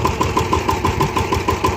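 A small tractor engine runs steadily at close range, its low, throbbing idle repeating in an even rhythm with no talk over it.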